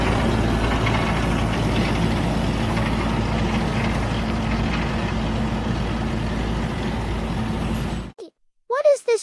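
A powerful quadrant tractor hauls a heavy-duty beet harvester through a field, its deep engine drone steady and loud for most of the stretch before cutting off abruptly near the end, where a few brief voices follow.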